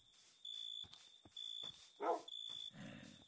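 Video-game dog barks from Minecraft, a few short yaps spaced across the moment over a steady electronic background tone, fairly faint and alone without talk.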